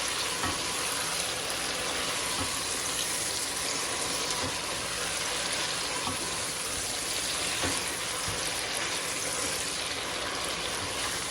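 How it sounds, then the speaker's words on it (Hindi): Achari chicken masala in a pan, drying out after the yogurt liquid cooked off, fries with a dense, continuous close sizzle, with occasional scraping clicks of stirring and no talking. "इसको मैं भून रही हूँ थोड़ी देर।"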